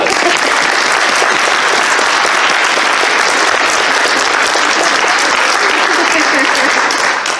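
A live audience at a fan festival voice-acting panel breaks into loud, sustained applause, dense clapping filling the room at full volume, with cheering and voices mixed in.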